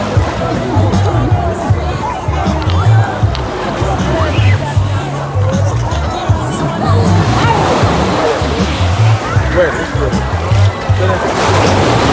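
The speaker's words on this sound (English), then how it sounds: "the water get rough, sea water get rough" Rough sea waves wash and slosh at White River beach in Jamaica, a continuous churning water roar with irregular surges, close and loud, while people talk and call out over it.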